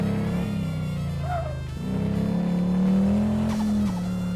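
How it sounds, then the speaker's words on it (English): Turbo V8 car engine in Car Mechanic Simulator 26, idling and revving in a steady drone with rising pitch sweeps, close and loud with no talk. "This thing sounds so killer with that turbo V8 in it."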